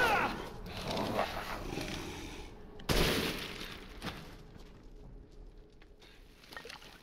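A pair of sharp gunshots in Resident Evil Village, a first-person survival horror game, each a loud close crack with a short fading tail, spaced about a second apart amid quieter ambient game sound.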